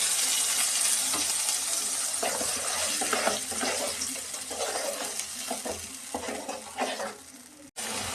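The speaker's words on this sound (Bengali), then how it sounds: "মশলাটা ভালো করে কষিয়ে নিয়ে" A blended paste of tomato, yogurt, four onions, ginger and garlic fries in a pan for an egg curry, giving a steady close sizzle with repeated scraping stir strokes throughout and a brief break near the end.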